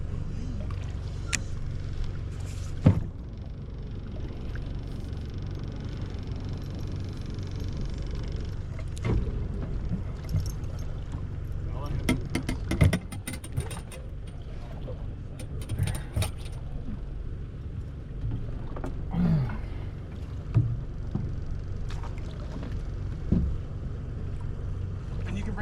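A fish and game patrol boat motoring on the water at O'Neill Forebay, with a steady low engine drone and hull knocks and rattles throughout, while people talk intermittently.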